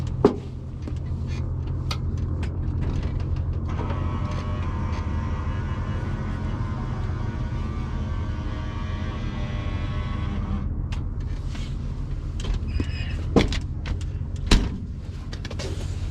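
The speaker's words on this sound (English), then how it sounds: "I'll put down the flaps." During a preflight check, an aircraft's flaps are lowered with a steady mechanical whir lasting about seven seconds. It rises out of a low background rumble, and scattered clunks and knocks follow as it stops.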